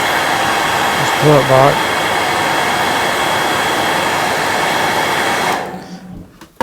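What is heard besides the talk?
hair dryer blowing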